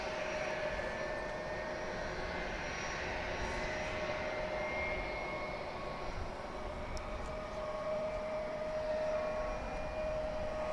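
An aircraft engine at DFW International Airport, a loud, steady, broad roar with a sustained tonal whine running throughout, constant and close.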